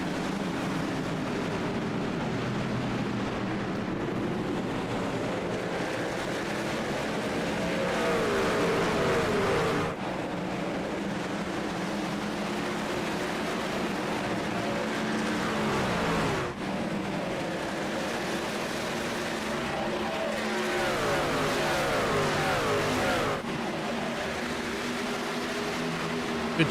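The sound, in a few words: racing trucks in iRacing video game at Watkins Glen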